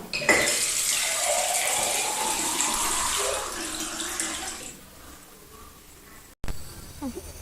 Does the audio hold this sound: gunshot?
no